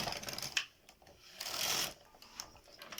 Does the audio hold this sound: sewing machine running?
yes